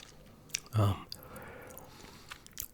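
Close chewing of a crunchy Butterfinger candy bar, one loud crunchy bite followed by softer moist chewing, quiet and near.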